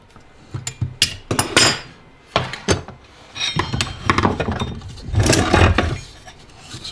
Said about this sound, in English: So we have to grab a tool to grab the here and then take the impeller off.